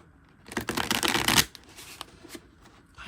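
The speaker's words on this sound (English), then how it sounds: "I'll do one more shuffle here for you." A deck of tarot cards riffles in a close, crisp shuffle lasting about a second, followed by a few softer card slaps and taps in a quiet room.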